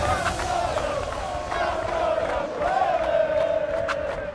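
Football crowd at Wrexham's final League Two home match against Stockport roaring and chanting from the stands, including a temporary stand, a loud sustained wall of voices with rising and falling swells.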